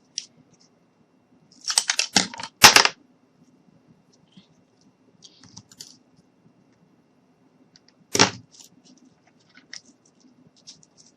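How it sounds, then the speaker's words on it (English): Several close, sharp snips and clicks as material is cut for a DIY fairy cottage craft, a quick cluster early on and another single cut later, separated by near silence. "I'm just going to cut that there."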